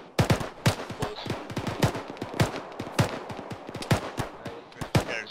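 Gunfire rings out in a ShackTac video game firefight: a string of loud, sharp shots in uneven bursts and single cracks, close by and dense, with no talking.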